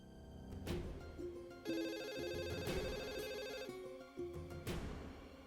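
A telephone rings in repeated bursts of bright electronic tones, with several rings spaced across a few seconds, fairly quiet and with nothing else heard.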